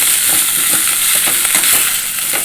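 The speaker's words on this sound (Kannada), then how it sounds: "ನಂತರ ನುಗ್ಗೆ ಸೊಪ್ಪು ಹಾಕ್ತೇನೆ" Freshly washed drumstick leaves sizzle steadily in a hot frying pan for a Kannada-style green gram and drumstick leaf stir-fry, a loud, continuous crackling hiss heard close up without talk.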